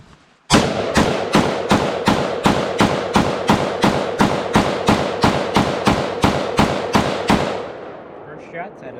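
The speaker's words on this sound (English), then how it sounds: "First shots out of the T91 Tactical T91, not bad." Rapid string of about twenty sharp, loud gunshots from a Taiwanese T91 tactical piston carbine, evenly spaced in quick semi-auto rhythm, then a few faint clicks afterward.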